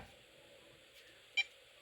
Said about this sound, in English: It beeps when it's at 0.